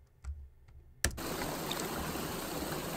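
Pool waterfall after Enhance processing: after a few soft clicks and a near-silent start, a steady, bright splashing wash of falling water comes in abruptly at about one second and continues evenly to the end.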